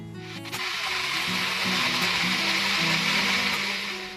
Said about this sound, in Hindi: अब इसको ब्लेंड कर लेंगे